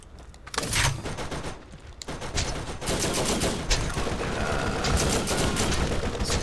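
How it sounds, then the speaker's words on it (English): Video game gunfire in Borderlands comes as rapid bursts and single shots, loud and close, with brief pauses between volleys before a long sustained stretch of shooting. "Who's shooting at me?"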